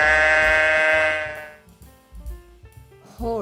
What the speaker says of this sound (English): Sheep or domesticated sheep are domesticated.